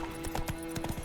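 A horse's hooves clip-clop in a steady trotting rhythm in a video game, crisp repeated strikes at moderate volume with no talk over them.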